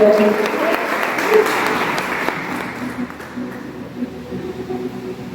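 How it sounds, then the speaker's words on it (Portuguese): Applause from a congregation during a morning church service, a spread of hand claps that starts fairly loud and slowly thins while talk runs underneath. "nós temos palmas nessa manhã"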